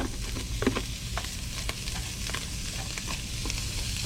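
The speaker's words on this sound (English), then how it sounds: "nice sizzle going on here." Fish sizzles steadily in a hot pan while a utensil stirs and scrapes now and then, with no voices.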